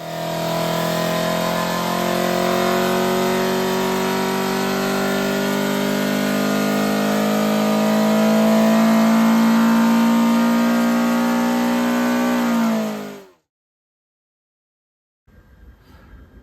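A Ford Crossflow engine with a Lucas 123 distributor revs steadily, its pitch climbing smoothly for about thirteen seconds before cutting off abruptly into silence, followed by a faint low rumble.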